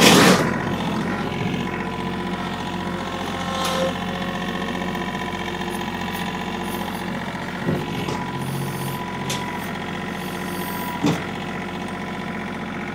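A tractor engine runs at a steady idle nearby, a continuous low drone with a few light clanks and knocks now and then.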